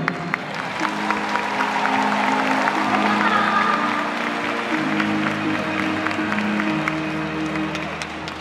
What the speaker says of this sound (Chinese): 掌声欢迎我们太太陈慧琳